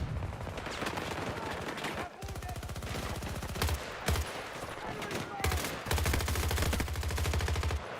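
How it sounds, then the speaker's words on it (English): Battlefield 2042 gunfire rattles in rapid automatic bursts, with several sharp nearby shots and sustained strings of fire cutting in and out over a busy game mix. "Getting shot at from places I can't see."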